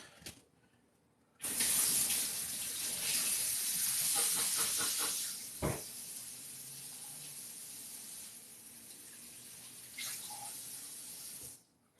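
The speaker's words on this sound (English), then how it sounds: "I'm going to just wash my hands very quick." A kitchen tap runs in a loud, steady hissing stream for about ten seconds while hands are washed, with a brief clunk midway before the flow cuts off, and no talk.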